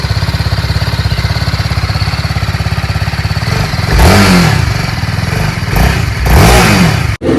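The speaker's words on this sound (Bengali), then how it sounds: "তো বাইক স্টার্ট দিছে" A motorcycle engine idles with a fast, even putter, then revs up twice in strong swells before dropping away, loud and close with no talk.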